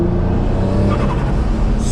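A twin-turbo Nissan G35 coupe making about 490 wheel horsepower accelerates hard, its engine note droning loud and steady from close by with a brief turbo whoosh at the end.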